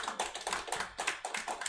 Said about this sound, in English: Another round of applause for the minister, please.